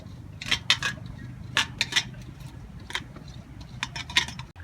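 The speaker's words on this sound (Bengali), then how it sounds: "থালার মধ্যে কিছুটা ঘি দিয়ে ভালো করে ব্রাশ করে নেব" Ghee is brushed across a perforated metal plate, producing a series of light metallic clicks and ticks in uneven clusters, close and crisp over a low room hum, with no talking.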